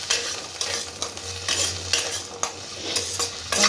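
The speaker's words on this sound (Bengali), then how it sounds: "এটাকে আমি ভালো করে রোস্ট করবো।" Chickpeas roast in a pan tempered with cumin seeds for restaurant-style chana masala, a steady soft sizzle under repeated scraping stirs of a spoon against the pan, close and moderately loud.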